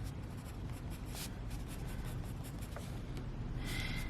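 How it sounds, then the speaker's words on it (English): Colored pencil scratching across paper painted with watercolor, a steady soft rasp of repeated strokes while darkening fur on a cat drawing, close and quiet with no talk. "these pencils work really well over this watercolor"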